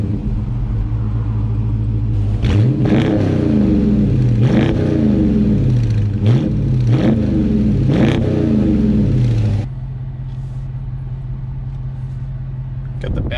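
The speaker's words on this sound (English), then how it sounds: "I can't forget how aggressive that exhaust is, guys." Stock Dodge Charger RT V8 revved hard several times in quick bursts, its aggressive exhaust booming loud and close before settling back to a steady idle rumble.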